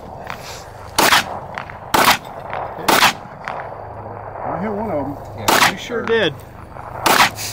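Sharp rifle shots ring out at a DMR rifle match, roughly one per second in a loose series of loud cracks with gaps between, while people talk nearby and a voice speaks between shots.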